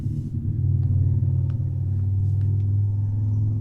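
A car idles or passes slowly outside, producing a loud, steady low rumble that runs unbroken throughout, with faint scattered clicks above it and no talking.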